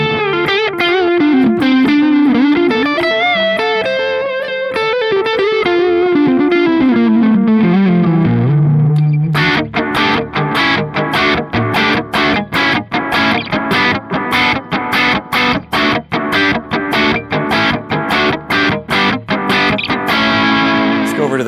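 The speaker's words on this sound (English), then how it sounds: "Let's hear what the echo sounds like with a little bit of distortion on here." Electric guitar with distortion through a Donner Yellow Fall 2 reverb and delay pedal, a sustained bending lead line with echoing repeats giving way to a loud, rhythmic chopped strummed pattern.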